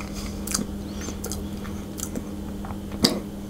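Someone bites into and chews a sablé Breton biscuit up close, with a few distinct crisp bites and soft crunching between them in a quiet room.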